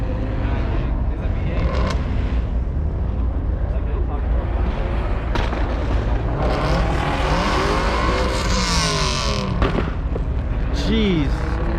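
An Audi engine revving hard at a car meet, loud and sustained with rising and falling pitch sweeps, amid crowd noise and people talking.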